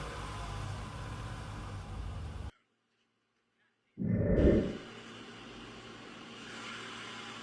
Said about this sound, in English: Do y'all hear how the engine sounds?